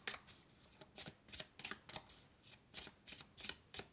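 A deck of cards being shuffled by hand, close and fairly quiet, in quick riffling bursts about every half second, with no talking.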